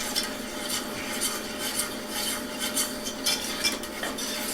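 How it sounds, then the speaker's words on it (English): Eggnog mixture heating in a pot is stirred steadily, giving a continuous close scraping and swishing with small spoon-against-pot clicks and no talking. "So we'll keep stirring this to make sure that it heats evenly"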